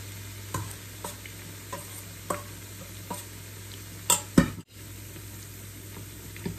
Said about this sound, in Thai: กะหล่ำชุบแป้งทอดก็ไม่มีอะไรเป็นพิเศษนะคะเราก็แค่ทอดในน้ำมันน่ะเนาะ